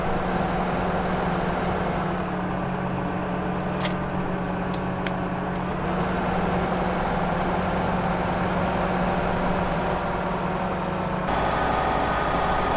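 A tractor engine idles steadily in Farming Simulator 2015, a constant low hum with slight shifts in pitch running for the whole stretch, with no voices over it.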